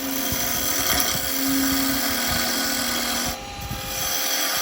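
A wood lathe spins a yoyo blank while a tool takes a light cut, giving a loud, steady mechanical whir with a low hum and a brief dip in the cutting noise near the end.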